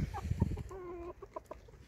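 Two black roosters in a backyard flock give short clucks and a brief drawn-out call, close and fairly soft, with some scuffling noise around them.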